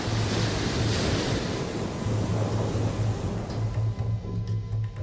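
Hurricane Sandy's storm surge waves crashing and churning on the Atlantic coast near New York City, a loud continuous roar of surf and wind buffeting the microphone, with no talking.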